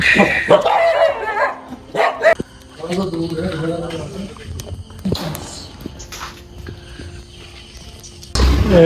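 Several dogs bark and yip at a meat market, loud and close in irregular bursts, with a whimpering note among them and people talking throughout.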